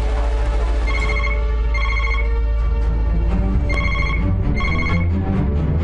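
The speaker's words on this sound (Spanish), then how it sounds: "Es el teléfono de la sala de reuniones presidencial," A telephone rings in a presidential meeting room in a science-fiction action film, giving repeated bursts of ringing under a low, steady background score, with no talk.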